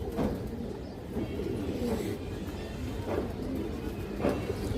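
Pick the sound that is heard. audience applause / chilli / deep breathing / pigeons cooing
pigeons cooing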